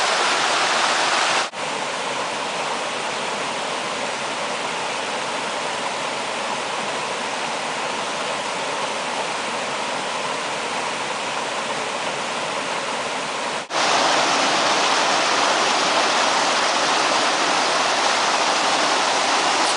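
Creek water flows steadily over and around a dam, a loud, close, continuous rushing with no breaks and no voices.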